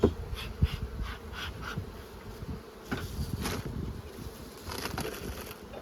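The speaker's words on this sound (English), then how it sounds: "Bees are in the box, not making any white comb yet." Honey bees in a hive box buzz steadily at close range, a dense droning hum with soft thumps and rustles mixed in.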